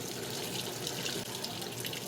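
Water rushes steadily into a Panasonic 7 kg top-load automatic washing machine, model NA-F70S7HRM2, a constant broad splashing flow with no pauses, close and fairly loud.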